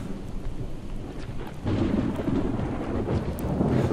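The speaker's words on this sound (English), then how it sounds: "the thunder and rain is having a big effect on the zombies as well as myself" Thunder and rain in the zombie survival game Project Zomboid: a steady hiss of rainfall, then a deep rumbling roll of thunder swells in and holds heavy under the downpour.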